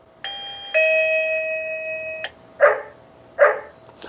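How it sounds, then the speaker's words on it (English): Electronic alert tones from an X-Sense STH54 smart temperature and humidity monitor: a sustained two-step chime, then two synthetic dog barks spaced under a second apart, clean and close. "Dog barking."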